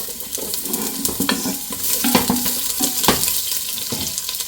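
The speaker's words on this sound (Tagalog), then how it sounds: "Gisa na natin yung onion first." Chopped onion sautéing in a hot pan for spicy chicken with garlic sauce, a steady broadband sizzle with brief stirring clatters and scrapes throughout, close and fairly loud, with no talk.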